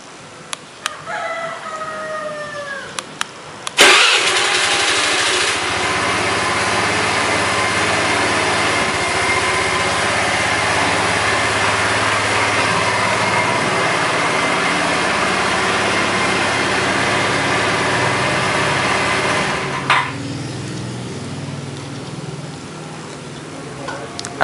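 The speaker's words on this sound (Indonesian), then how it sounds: "Motornya bisa nyala sendiri." A motorbike engine starts by remote with a sharp burst, then idles steadily for about fifteen seconds before cutting off, a rooster crowing briefly before the start.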